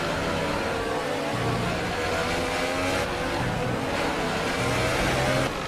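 An F1 race car engine in the F1 2018 video game at the Baku circuit screams loudly and continuously in a high, buzzing whine, its pitch rising and dropping through gear shifts, with no talking.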